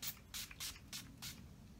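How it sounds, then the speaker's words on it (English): Several short, quick bursts of Urban Decay All Nighter makeup setting spray hiss out in a rapid sequence, close and quiet, with brief pauses between sprays. "I'm going to use this, which is my Urban Decay All Nighter Makeup Setting Spray"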